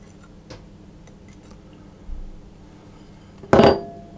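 Baking powder stirred into flour in a large bowl, a few soft scrapes and light knocks of a utensil against the bowl, ending in one loud close clatter.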